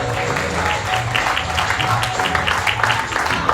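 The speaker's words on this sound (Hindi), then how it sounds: "जोरदार तालियां मिहिर जी के लिए।" An audience at the close of a stage play bursts into applause, a steady patter of many hands clapping at moderate volume with faint voices mixed in.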